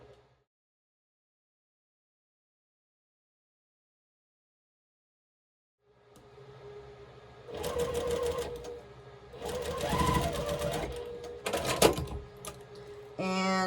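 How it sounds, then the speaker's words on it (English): A sewing machine stitches quilt blocks together into a four-patch. It is silent for about six seconds, then the machine runs in several close, steady bursts with short pauses between them, and no one talks. "So I'm going to sew these together to make a 4 patch."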